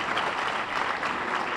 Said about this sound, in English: A round of applause for Laspec.